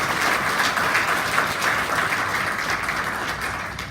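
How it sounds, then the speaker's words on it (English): An audience claps steadily at a Peace Corps swearing-in ceremony, a dense, even wash of applause that holds for the whole stretch without talk. "So if you join me in a quick clap for them."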